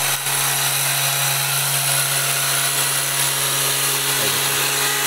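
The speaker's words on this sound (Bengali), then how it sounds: "মেশিন দিয়ে প্লাকিং, মেশিন প্লাকিং" A motorized tea leaf plucking machine running in a tea garden, a loud steady engine drone with a constant low hum, close by and alone without voices.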